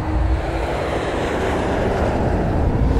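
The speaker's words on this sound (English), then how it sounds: "sit back, relax, and prepare for takeoff" An airplane takes off in a movie trailer scene, its engines roaring loud and steady with a broad rushing drone throughout.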